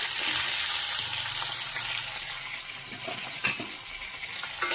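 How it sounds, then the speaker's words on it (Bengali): Fish heads frying in oil until reddish-brown, for a bitter note-greens curry, crackle and sizzle loudly and continuously, with stirring scrapes and a sharp clatter partway through. "মুড়োগুলো লাল লাল করে ভাজা হয়ে গেছে,"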